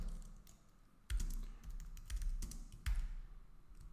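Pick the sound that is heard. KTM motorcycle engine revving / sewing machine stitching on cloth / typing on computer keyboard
typing on computer keyboard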